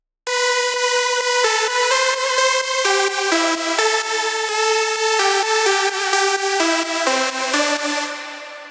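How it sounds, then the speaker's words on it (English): A basic supersaw synth lead layer from a drop section of a remake, playing a steady melodic line of bright, buzzy sustained notes that change pitch every half second or so, loud and alone with no voices. "Just a basic super saw"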